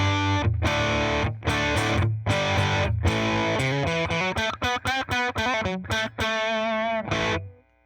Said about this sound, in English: So this Distort Plus, this is going to be the heavier distortion.